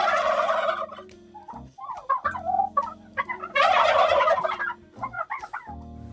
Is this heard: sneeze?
no